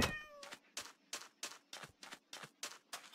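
A cat meows in the Minecraft video game, repeating about nine times in a quick, even rhythm, close and clear with no talking.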